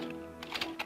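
Keys striking on an IBM Wheelwriter 50 electronic typewriter, a quick run of four or five sharp clacks over a steady machine hum.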